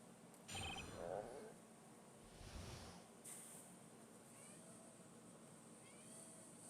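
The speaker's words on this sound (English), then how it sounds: "Not now, kitty." A cat meows a couple of times, faint and somewhat distant, over quiet steady background noise with no talking.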